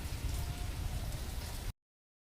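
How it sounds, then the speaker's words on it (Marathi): Heavy rain pours steadily outside on a cold day, a dense, even wash of drumming on surfaces that holds at the same loudness throughout before cutting off abruptly. "पाऊस थांबायलाच तयार नाही."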